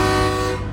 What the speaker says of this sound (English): Someone had to do a train horn test this morning, make sure the train horns are still working.